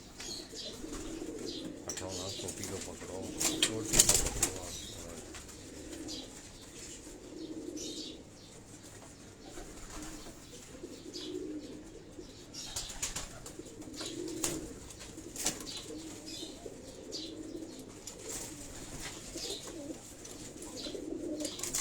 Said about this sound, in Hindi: ये तमाम कबूतर जो हैं